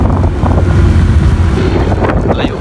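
Steady wind buffets the microphone outdoors on open water during a kayaking and wakeboarding outing, a loud continuous low rumble with gusts and faint splashes of water, no talk.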